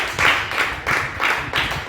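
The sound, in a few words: congregation clapping for Jesus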